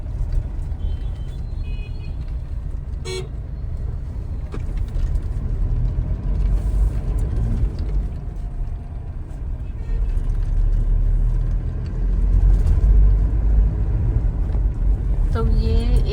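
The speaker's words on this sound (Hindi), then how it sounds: "आज तो बहुत ज़्यादा ट्रैफिक है।" Heavy road traffic on a busy street in Ajmer, India, with cars and buses: a steady low rumble of engines and passing vehicles, swelling louder toward the end, with an occasional horn-like tone.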